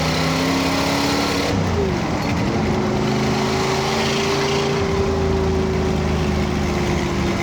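A 1969 Chevrolet Corvette ZL1 cruises in fourth gear at about 50 mph, just under 2,000 RPM, its engine a steady low drone with a brief pitch dip partway through, close and continuous with no talk.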